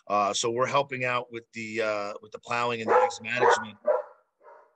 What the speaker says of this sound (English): Excuse the dog there.